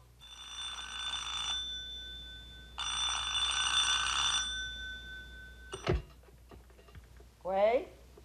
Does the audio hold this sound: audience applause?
no